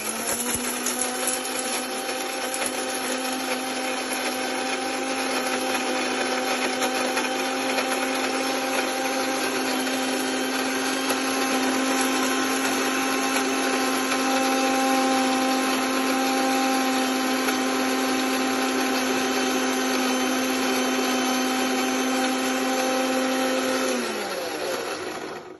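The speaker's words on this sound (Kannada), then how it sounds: "ಈ ತರ ಇದನ್ನ ನಾವು ಮಿಕ್ಸಿನ ಮಾಡ್ಕೊಂಡ್ವಿ" A mixer grinder whirs steadily at full speed for nearly the whole stretch, grinding dry coconut chutney in its jar, then winds down abruptly at the end; a loud, continuous motor hum with no talking.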